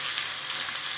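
Chopped onions frying in hot oil while making kara kuzhi paniyaram, a steady close sizzle and crackle running evenly for a second with no talking.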